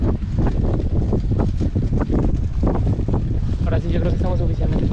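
A motorboat (lancha) ride on open water, with a steady engine drone, wind buffeting the microphone and splashing hull noise, while a person talks over it.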